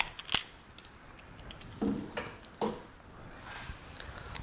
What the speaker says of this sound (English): I just need to pull off the tube and just loosen the bolt.